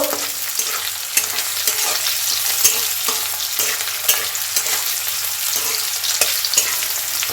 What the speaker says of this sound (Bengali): পেঁয়াজটা ভেজে নিচ্ছি, সুন্দর করে লাল লাল করে ভেজে নেব।